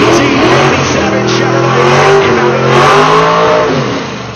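A 1987 Chevrolet High Boy gasser drag race car at a Rockingham PDRA event revs loudly and steadily, its engine note swelling and sliding in pitch up close, with faint crowd and announcer noise underneath.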